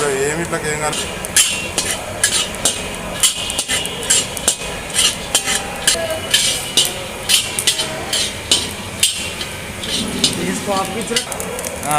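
Peanuts fry dry in a pan for potato kurma, a steady soft sizzle broken by frequent scraping and clacking strokes of a spoon stirring them, close and fairly loud, with a faint voice now and then.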